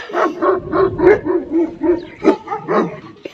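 A dog barks repeatedly at close range, a rapid run of short, yappy barks in a steady rhythm.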